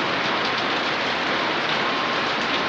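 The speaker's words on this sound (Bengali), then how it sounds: "বৃষ্টি নেমেছে আবার" Steady rain falls continuously on an outdoor surface on a hot day, a dense even hiss with no talking.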